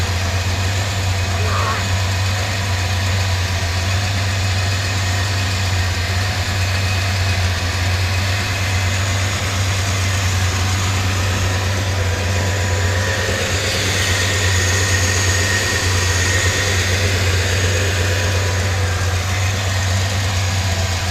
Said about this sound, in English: check when hot, idling in neutral